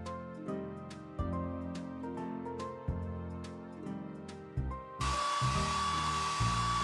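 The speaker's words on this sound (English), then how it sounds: "The hair dryer to blow dry the pup's hair." Hair dryer blowing in a Paw Patrol children's mobile game: a steady hiss starts suddenly and continues to the end, over cheerful background music.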